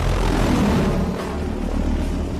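A Little Bird helicopter arrives over a combat scene where elite troops are surrounded by militia, its dense rotor and engine rumble loud and continuous throughout, with no talk.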